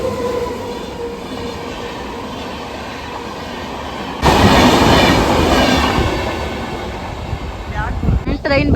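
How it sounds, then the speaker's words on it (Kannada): A crowded passenger train from Bangalore rolls past a station platform with a loud, steady rumble of wheels and carriages that swells abruptly midway. Voices chatter nearby throughout. "ಡೈರೆಕ್ಟ್ ಅಲ್ವಾ ಈ ಟ್ರೈನ್ ಬೆಂಗಳೂರಿಂದ ಬರ್ತಾ ಇದೆ"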